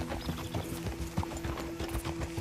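A horse's hooves clip-clop at a relaxed walk in the video game Red Dead Redemption 2, a steady rhythm of close, soft thuds over a faint, constant ambient hum.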